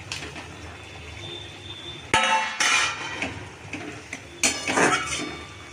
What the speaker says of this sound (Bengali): এবার আমি ডিমগুলো দিয়ে দেবো